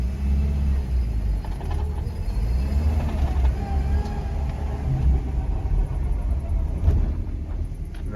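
A Peugeot 404 car after a brake booster (hydrovac) repair, its engine rumbling steadily at close range as it drives, with no talk.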